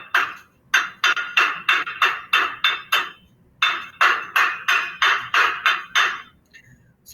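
A hammer chips slag off a fresh weld in two quick bursts of sharp metallic knocks, about six and then eight strikes in a steady rhythm, close and loud, with no talking.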